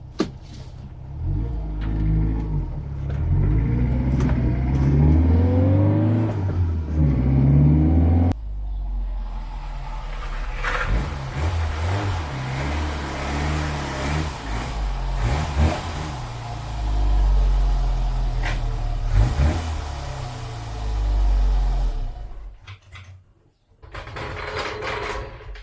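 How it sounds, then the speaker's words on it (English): A Beissbarth wheel balancer spins an Abarth wheel. The drive whirs up with rising tones, then a continuous mechanical rumble and hum carries on before cutting off abruptly near the end. "let's try to balance the Abarth wheel on the BEISSBARTH."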